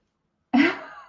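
A single short cough bursts out after a moment of silence, close and fairly loud, trailing off quickly.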